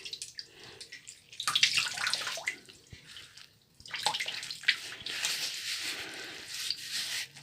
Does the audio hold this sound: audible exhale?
no